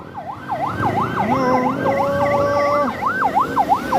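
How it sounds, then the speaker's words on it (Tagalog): A wailing ambulance siren cycles rapidly up and down, loud and close, over road traffic rumble, with a second steady tone layered in the middle of the passage. "Yan na, ambulansya!"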